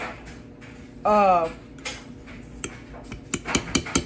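A metal fork clinks and scrapes against a baking dish while working a buttery crust mixture for a peach dump cake, with irregular taps growing busier toward the end and a brief squeaky drag earlier.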